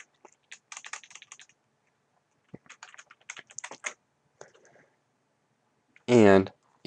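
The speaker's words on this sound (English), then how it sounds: "I'm going to type in my address, just like I typed in the AutoCorrect." Typing on a computer keyboard while entering an address in Word 2013, heard as quick scattered bursts of soft key clicks in several clusters, ending in a short loud burst of a different, louder sound.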